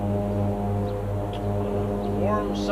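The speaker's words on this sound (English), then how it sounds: "we apologize for the plane" A plane drones overhead beside a wooden boat under restoration, a steady low hum with a faint rising whine near the end, moderately loud throughout.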